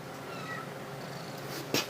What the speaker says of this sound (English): These cats aren't leaving my side.